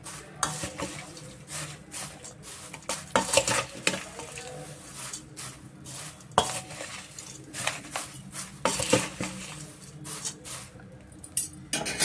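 Paper poha chivda mixture being stirred and tossed in a wide pressure cooker, with repeated scraping, rustling and light metallic clinks of a spoon against the pot, close up and steady with no talk.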